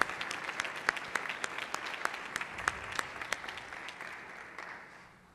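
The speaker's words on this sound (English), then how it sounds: "Let's hear a round of applause for the oldest lady." Applause breaks out for Gladys Burrill, the oldest woman to finish a marathon, with scattered sharp claps rising into steady clapping from a room of people that fades off toward the end.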